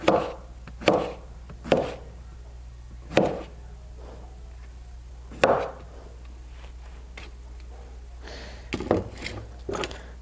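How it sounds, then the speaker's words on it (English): A kitchen knife chops squash (zucchini) on a cutting board, giving sharp, spaced thuds at irregular intervals, about six clear strikes followed by a cluster of lighter, quicker cuts near the end, with no talking. "cutting some squash."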